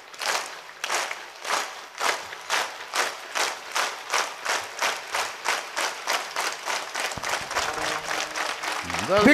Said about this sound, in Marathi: एक टाळी